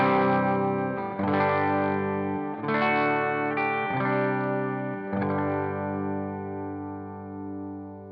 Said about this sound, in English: here's the clean sound going through a Blue Guitar Amp 1 on the clean channel